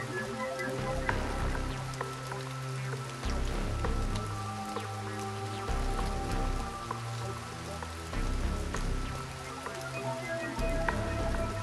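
Steady rain falls throughout at a moderate level, a dense continuous patter with no voices, set against a soft background tone.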